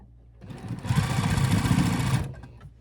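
A sewing machine stitches a hoodie seam in one steady burst of fast mechanical whirring and needle chatter, close and loud, lasting under two seconds with quiet before and after.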